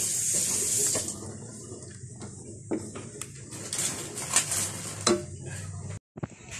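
Water runs and is stirred while a sweet drink is made in a home kitchen, a steady trickle with clinks and scrapes of mixing, birds faintly calling in the background.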